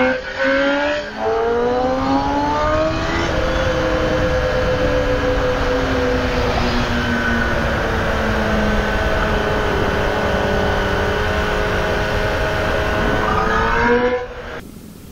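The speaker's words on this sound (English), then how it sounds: "this bike runs really good" A 2021 Kawasaki ZX-10R 1000cc sport bike engine revs up steadily and holds a high, smooth whine for several seconds, then drops back down near the end, loud and close with no talking.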